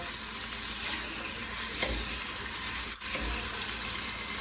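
Oxtails browning in a hot pan give a steady, fairly quiet sizzle and fry, with a couple of soft clinks and stirring touches, no talking.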